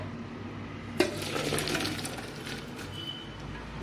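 Boiled peas and their cooking water are poured out of a pressure cooker, a sudden clatter followed by a steady near splashing and gurgling of liquid that gradually thins out.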